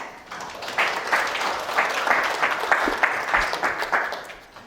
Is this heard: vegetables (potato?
no